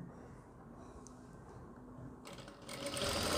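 Sewing machine stitching a readymade suit in a boutique, a steady close mechanical whir that grows louder and busier toward the end.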